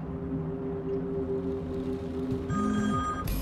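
A phone rings in Watch Dogs, a synthetic electronic ringtone that starts partway through and rises with a bright tonal trill. Low ambient game hum runs underneath, and no one speaks.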